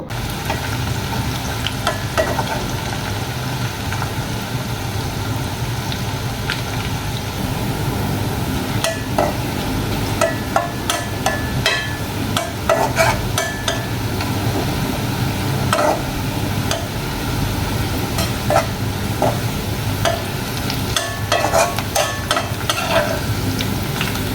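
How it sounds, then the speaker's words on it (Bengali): Garlic fries in a pan until reddish, giving a continuous sizzling hiss with frequent sharp taps and scrapes of a spoon stirring against the pan, steady and close throughout. "রসুনটা মানে হালকা আছে ভেজে ভেজে আমি লালচে একটা কালার করব"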